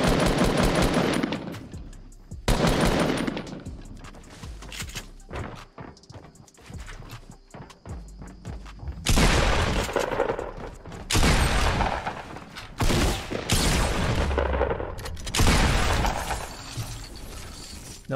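Gunfire in Fortnite Battle Royale rattles in loud, rapid bursts separated by short pauses, some automatic volleys running for several seconds.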